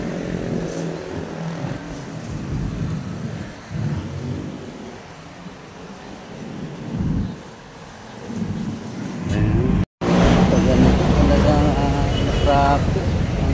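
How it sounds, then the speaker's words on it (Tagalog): Road traffic passes along a street in Barangay Santa Fe, Dasmariñas City, with cars and motorcycles droning and revving at close range. The noise stays steady throughout, broken once by a short gap, and people talk over it. "traffic ang buhay"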